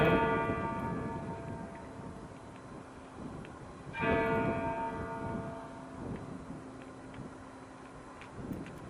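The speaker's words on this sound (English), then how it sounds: "Does the church bell always sound so sad?" A church bell in Kyiv tolls with long, ringing harmonic tones, struck again partway through, over a steady rush of wind and distant background rumble.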